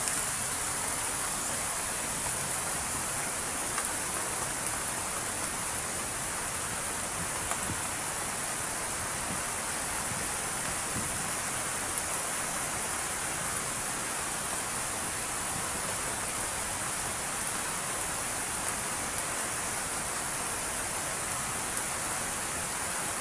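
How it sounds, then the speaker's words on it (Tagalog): Heavy rain falls steadily in strong wind, making a dense, even hiss with no breaks. The wash is fairly faint and sounds distant, with no voices over it. "napakalakas pa ng ulan"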